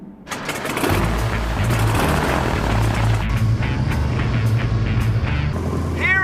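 A passenger airplane's engines drone steadily in flight, a loud, unbroken roar filling the cabin from start to finish with no other sound standing out.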